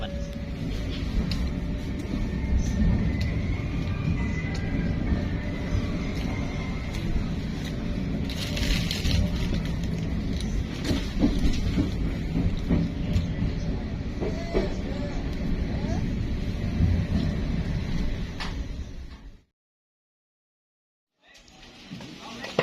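KA Lokal Garut, a local passenger train on the Purwakarta–Garut line, rumbles steadily with dense low clatter for about nineteen seconds, then cuts to silence before the noise returns briefly.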